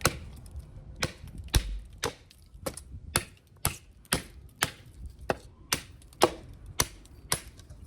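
A Bowie-style hunting knife chops steadily on a cutting board, sharp wooden knocks landing in a brisk, fairly even rhythm, close by with no talking.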